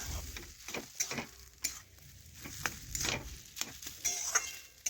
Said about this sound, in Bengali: এইভাবে ভালোভাবে নাড়াচাড়া করে পুরটা বানিয়ে নিতে হবে।